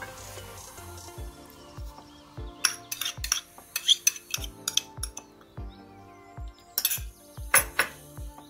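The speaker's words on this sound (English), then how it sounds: "Then I'm going to stir this soup" Spoon stirring cabbage soup in a metal pot, irregular clinks and scraping taps against the sides, close and fairly quiet with brief pauses between bursts of stirring.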